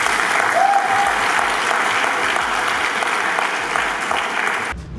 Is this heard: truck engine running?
no